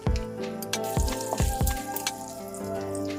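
Close crackling and popping of mustard seeds and lentils frying in hot oil, with several sharp knocks against the pan over a continuous sizzle.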